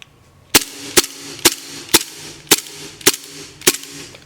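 Seven sharp gas-powered shots from a secondhand Double Bell M92 gas BB pistol, fired one after another at an even pace about half a second apart, each a loud, crisp pop with no voices.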